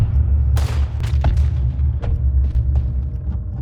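Gunshots in the video game Red Dead Redemption 2, a series of sharp cracks and booms over a constant low rumble, several shots spaced irregularly across a few seconds.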